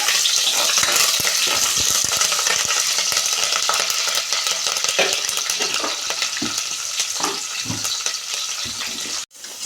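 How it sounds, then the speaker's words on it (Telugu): Curry leaves crackle and fry in a pan for mutton curry as they are stirred, giving a loud, close, busy sizzle with scraping spoon strokes, ending with a brief sharp knock. "కరివేపాకు ఒకసారి కలుపుకున్నాం"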